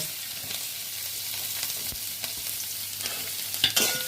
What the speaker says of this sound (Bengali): এবার আমি গাজরটাকে ভেজে নেব